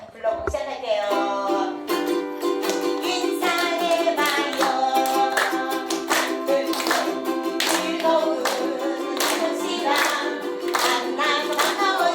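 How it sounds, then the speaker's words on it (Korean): A group in a music class at a disability welfare center claps their hands in a steady rhythm over singing and music. The claps are loud, close and repeated, keeping time throughout. "박수 준비."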